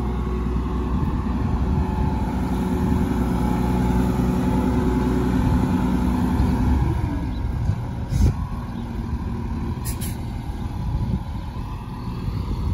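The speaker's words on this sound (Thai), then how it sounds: "รถตักเราก็เก่าแล้วพี่น้องเนาะ" Old wheel loader mixing soil, its engine running loud and steady with a deep rumble, easing off partway through and carrying on at idle with a faint clank.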